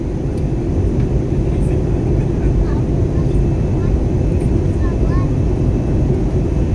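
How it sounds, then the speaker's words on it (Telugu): An airplane turns while taxiing at Melbourne, its engines giving a loud, continuous, broadband drone that stays steady for the whole stretch. Faint chirps sit in the background. "మలుపు తిరుగుతుంది విమానం."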